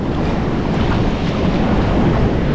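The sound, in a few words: ocean waves breaking on Colva beach, Goa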